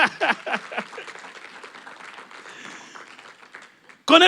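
Church congregation clapping and acclaiming the Lord during a sermon, a burst of applause and cheering voices that fades to a murmur before a loud voice cuts in at the end.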